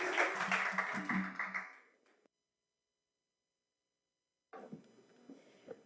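Audience applause at the close of a panel event, a short burst of clapping that fades out within two seconds, followed by silence and then faint scattered sounds and a little talk.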